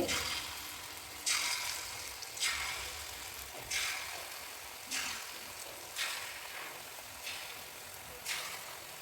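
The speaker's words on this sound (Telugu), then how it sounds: "వీటిని గోల్డ్ కలర్ వచ్చే అంతవరకు వేయించుకొని" Small bites of idli batter deep-fry in hot oil until golden, a constant crackling sizzle swelling in regular bursts about every second and a bit, fairly quiet and close.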